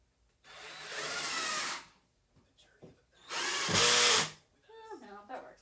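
A power drill drives screws into wood in two loud sustained bursts with pauses between, followed by shorter revving whirs and brief handling noises, a carpentry build in progress.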